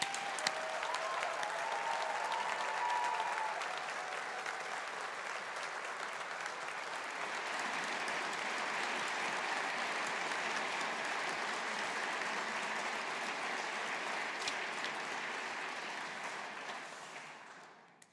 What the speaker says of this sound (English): So let's all show our appreciation with a collective round of applause for our